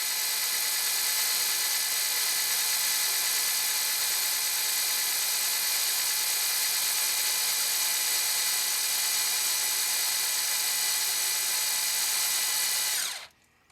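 A power drill whines steadily at high pitch for about thirteen seconds, loud and close, then cuts off abruptly at the end.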